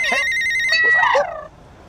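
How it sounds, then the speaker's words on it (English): A cartoonish electronic phone ringtone chirps loudly in a bright, warbling melodic burst, then cuts off and fades to quiet. "Don't worry, Scraps, it's just the maker phone."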